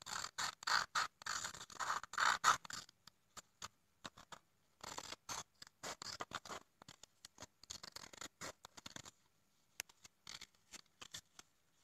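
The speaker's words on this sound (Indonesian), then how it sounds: "Digunting mengikuti pola yang ada." Scissors snipping paper along a pattern, many quick crisp cuts in bursts and runs, close and fairly quiet, with short gaps and no voices.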